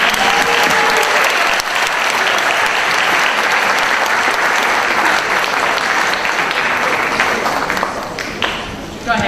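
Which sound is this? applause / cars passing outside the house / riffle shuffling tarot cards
applause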